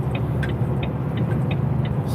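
Steady road and engine drone from a car building speed on the M40 motorway in England, a continuous close rumble with light tonal whine and no talk.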